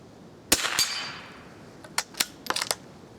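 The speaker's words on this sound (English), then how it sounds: "let's shoot that squirrel on the left right in the head" A .22 rifle fires at a metal squirrel silhouette target: two sharp, close cracks less than a second apart, then a series of lighter quick clicks and pops, with no voices.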